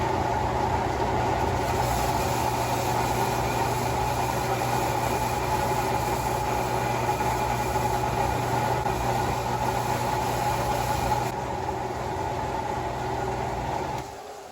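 An old horizontal belt sander motor runs steadily with a constant mid-pitched hum and whine, close and loud, holding an even drone for the whole stretch before dropping slightly in level near the end.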